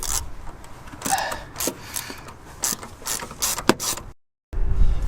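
A screwdriver fitted with a 10mm socket works a bolt loose during an induction kit install on a Hyundai Kona N, giving close, rapid ratcheting clicks and mechanical whirring that cut out briefly before a final burst.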